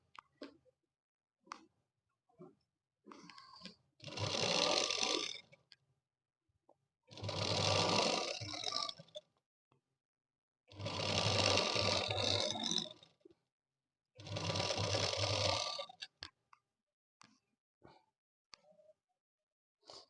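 A sewing machine stitches lining onto a cutwork sleeve in four loud bursts of rapid whirring, each a couple of seconds long, separated by quiet pauses with faint clicks and handling sounds.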